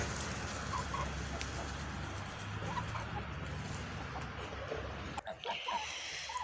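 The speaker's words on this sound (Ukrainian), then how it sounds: "Ось мені подобається гарненька курочка, голошейка, молоденька" A young naked-neck hen clucks softly in a farmyard, a few faint, scattered calls over a steady background hum.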